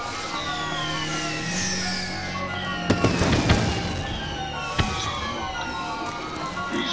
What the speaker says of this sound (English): I also love that the fireworks serve a gameplay purpose.